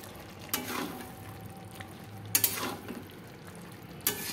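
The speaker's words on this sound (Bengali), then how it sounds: "আমি ধনে পাতাটা দিয়ে আর একটুখানি মিশিয়ে নিচ্ছি" Curry being stirred in a pan after coriander leaves go in: three spaced scraping strokes of a spoon against the pan over a quiet background sizzle, soft and close with no talking.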